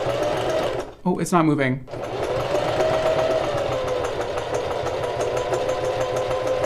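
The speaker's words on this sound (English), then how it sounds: "sewing machines are really scary sometimes." Sewing machine stitching human hair onto a shirt, its steady mechanical whir running nearly throughout, close and loud, with a brief stop and a person speaking over it.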